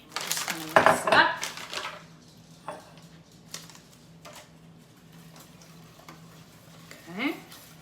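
Instant mashed potato flakes being stirred into a pot with butter, with clattering scrapes of a utensil against the pot at first, then softer intermittent taps and stirring under a low hum.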